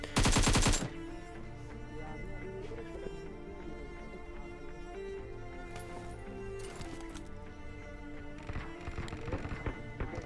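A rapid burst of gunfire opens the scene in the BGMI mobile battle royale game, followed by scattered sharper shots and clicks over a continuous game soundtrack, with no talk.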